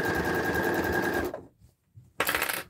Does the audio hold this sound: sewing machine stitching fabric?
yes